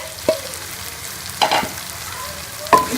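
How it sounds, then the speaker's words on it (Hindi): Okra being stirred into masala frying in a pan, a low steady sizzle broken by three short scraping stirs, close by and without speech. "अब इसके अंदर मैं भिंडियाँ डाल दूँगी"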